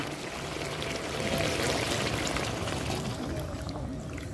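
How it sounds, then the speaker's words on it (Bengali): Water pours into a pot of browned duck meat and potato curry to make the gravy, a steady close splashing gush lasting a few seconds with no voices. "তো এখন ঝোলের পানি দিয়ে দিব।"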